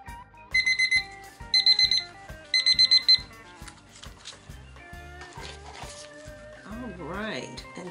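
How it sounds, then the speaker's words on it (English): A timer alarm goes off after a five-minute resin mix: three bursts of rapid, high electronic beeping, each lasting about half a second, repeating with short gaps over background music and other sounds. "So I will start the timer and set it for 5 minutes."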